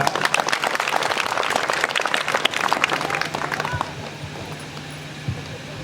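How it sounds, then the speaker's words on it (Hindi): An audience claps together at a village play festival, a dense, steady applause that holds for nearly four seconds and then quickly dies away to a quiet murmur. "आप लोग स्वयं के लिए भी तालियां बजा लीजिए एक बार"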